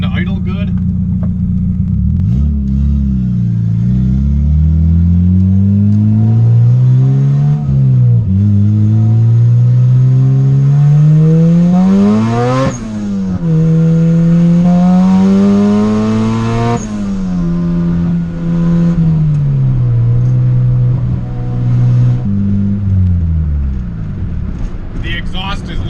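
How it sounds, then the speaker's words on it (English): A turbocharged Honda B16B Type R in a right-hand-drive EG hatchback revs on a dyno, its exhaust droning loudly from directly underneath, rising and falling through repeated sweeps, with a voice talking over it. "The exhaust is literally directly under my feet right now, so it drones really bad in here"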